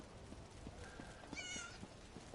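A cat meows once in the Elder Scrolls Online video game, a brief, faint mew amid soft footsteps and low ambient game noise.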